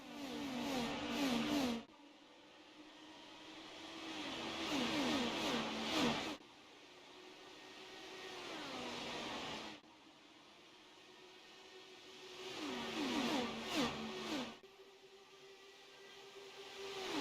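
Simulated IndyCar race cars at Homestead Miami in a racing video game surge off the green-flag start, engines revving and shifting in repeated rising waves, loud and continuous with brief dips between bursts.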